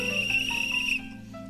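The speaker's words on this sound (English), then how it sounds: "Well, that's how you go fishing, isn't it? You blow a whistle." A steady, shrill whistle blown once for about a second, then cut off, trying to call fish in a pond setting; close and fairly loud with no voices.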